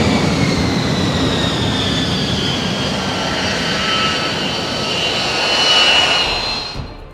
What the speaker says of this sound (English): The stealth jet lands and the super team disembark.